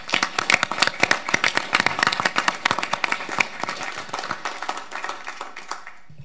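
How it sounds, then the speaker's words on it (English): Audience members applaud at a city council meeting in a chamber, with sharp individual claps from a modest crowd that thin out and fade toward the end. "Can we give them one more round of applause?"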